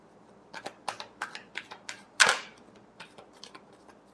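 Tarot cards are shuffled by hand, a quick run of soft papery flicks and taps at a steady rhythm, with one louder riffling burst in the middle, close up in a quiet room.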